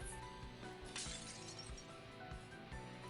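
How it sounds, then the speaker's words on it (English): Swords shatter in the video game Granblue Fantasy, a shrill, glassy breaking and clinking that rings continuously over a dense, loud bed of game music and effects. "A shrill sound signals the shattering of Eustace and the captain's swords."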